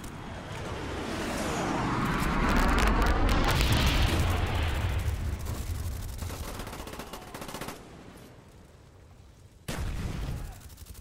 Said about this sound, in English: Enemy napalm strike inbound.